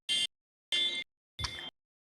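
Three short electronic buzzer blasts, evenly spaced with brief silences between, loud and harsh.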